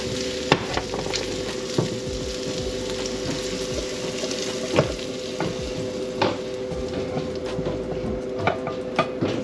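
Half-cooked mixed vegetables are stir-fried in a pan, with a steady close sizzle and repeated scraping stirs of a utensil throughout, no talk.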